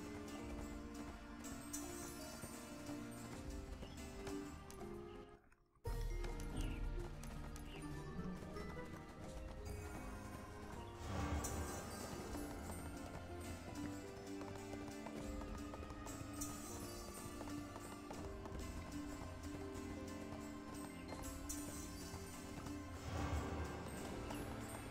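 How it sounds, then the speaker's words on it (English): A horse gallops in the video game ArcheAge, with steady rhythmic hoof clip-clops and an occasional whinny that go on throughout, broken by one brief gap. "Get back on the horse."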